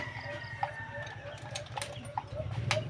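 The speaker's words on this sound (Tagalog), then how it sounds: "Tapos yung kalapati naman." Pigeons in a coop give soft, low calls and small flutters, faint against background noise and some distant voices.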